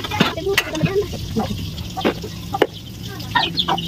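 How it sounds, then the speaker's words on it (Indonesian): Eggplant fries in oil in a wok, giving a soft background sizzle beneath nearby clinks and clatters of plates being moved around a kitchen. "Sambil nunggu terongnya digoreng"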